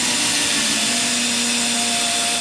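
A power drill or driver whines steadily and loudly at close range while driving a screw into a wooden climbing anchor practice board, a continuous motor hum with a slight rise in pitch.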